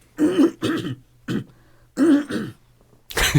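A person clears their throat repeatedly in a series of short, gruff, close-up rasps, about five or six bursts with brief pauses, ending in a louder one.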